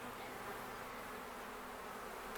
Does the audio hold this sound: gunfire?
no